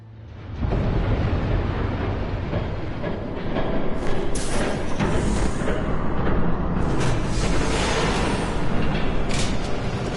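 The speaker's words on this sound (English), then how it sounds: "There's a train coming." A train approaching and rumbling past, with a loud, steady broadband roar that rises into heavier clatter midway and stays close for several seconds, with no talk.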